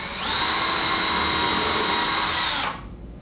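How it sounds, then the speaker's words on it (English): A power drill whines steadily at high speed, boring continuously through a frame and drywall into a stud for a few seconds before cutting off abruptly. "We want to have a drill bit long enough to go through the frame, through the drywall,"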